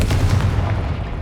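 Confringo blasting spell cast in the Hogwarts Legacy video game: a loud, dense booming burst with heavy low rumble, sustained for about a second.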